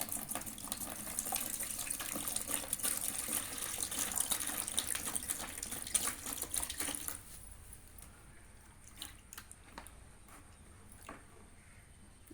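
Water pours steadily into a mix of Comfort fabric conditioner for about seven seconds, then stops. A few faint splashes and soft knocks follow in a quiet room.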